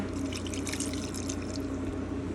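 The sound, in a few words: water being added to a beef stew pot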